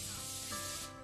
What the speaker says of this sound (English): If you use foil, you will need to coat it with a non-stick spray